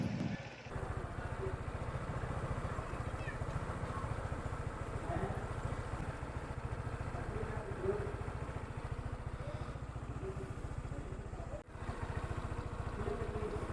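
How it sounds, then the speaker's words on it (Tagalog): Adventure motorcycle engines drone steadily at close range while climbing uphill on rough roads in Villa Maria, Porac, Pampanga, a continuous rumbling buzz with slight clatter. "maririnig mo yung mga makina ng motor na umiingay at gumagapang na lang"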